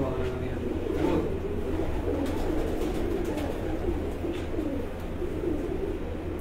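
Breeder pigeons cooing on a rooftop loft, a steady low murmur of soft coos running throughout with faint background hum and occasional distant sounds.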